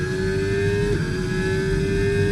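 An F1 car in the F1 25 video game at Las Vegas holds a high-pitched engine whine that stays steady, briefly dips, then rises again, loud and continuous throughout.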